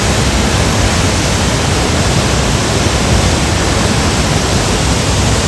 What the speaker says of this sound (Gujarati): ધોધ પડે છે એનો અવાજ